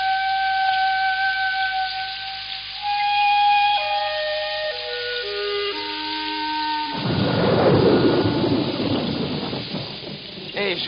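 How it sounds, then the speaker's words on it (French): Thunder rumbles through a storm, with descending tonal lines early on giving way to a loud, broad roll of thunder and rain noise from about seven seconds. "Le tonnerre ne gronde plus, il n'y a plus d'éclairs et l'orage a dû s'éloigner."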